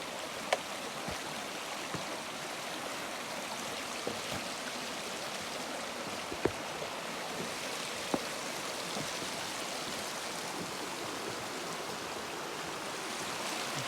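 Slaughter Creek running high beneath a footbridge on a trail loop, a steady broadband rush of flowing water throughout, close and even, with a few faint clicks and no talking.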